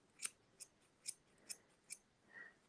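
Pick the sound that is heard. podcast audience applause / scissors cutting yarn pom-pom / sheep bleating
scissors cutting yarn pom-pom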